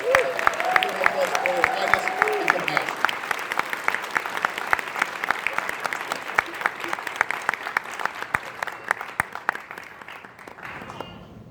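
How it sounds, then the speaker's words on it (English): Applause from an audience at the Everfree Northwest 2022 opening ceremonies, dense and sustained for most of the stretch with a voice briefly heard near the start, thinning out toward the end. "Please give another round of applause for Ms. Sophiana Ardinger"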